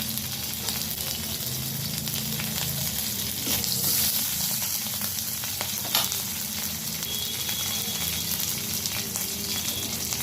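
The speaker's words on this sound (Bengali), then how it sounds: "ওই তেলের মধ্যেই আমি দিয়ে দিচ্ছি তেজপাতা আর কাঁচা লঙ্কা ফোড়ন। আর দিয়ে দিলাম জিরে ফোড়ন।" Bay leaf, green chilli and cumin seeds sizzle steadily in hot oil, a dense, continuous crackling fry heard up close with no voices.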